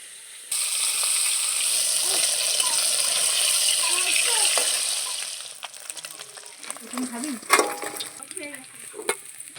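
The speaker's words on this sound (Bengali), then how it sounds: "কড়ার তেল গরম হয়ে গিয়েছে, আমি একে একে মাছগুলো দিয়ে এবারে ভেজে নেব।" Fish are slipped into hot oil in a wok for a Bengali mustard fish curry, setting off a loud, dense sizzle that holds steady, then eases as sharp clinks and stirring clatter cut through.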